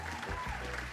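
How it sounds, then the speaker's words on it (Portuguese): A studio sound engineer plays an applause sound effect on a television program, a brief burst of steady clapping at moderate level. "Amaral, nosso sonoplasta, colocando palmas para a Agnes Rasta."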